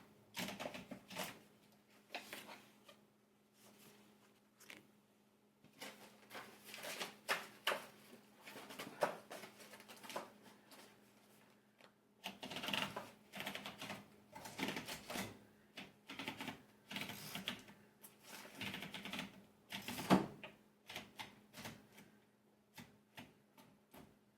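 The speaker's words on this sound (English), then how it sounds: "I guess I was gonna type this sheet." Keys clack on a typewriter as someone types a sheet. The strikes come in irregular bursts of quick keystrokes with short pauses between runs, faint and close throughout.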